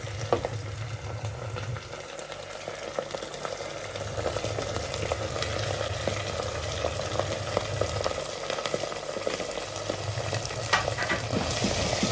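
Onion frying and being stirred in a pan for pepper chicken sauce, a loud continuous sizzle with scattered crackles and utensil scrapes throughout, close up and without speech.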